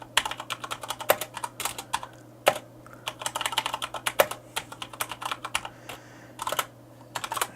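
Fingers type steadily on a Corsair K70 RGB MK2 mechanical keyboard with Cherry MX Brown switches, producing close, crisp clacks in quick uneven runs, with a few heavier thuds like the space bar, and no talking.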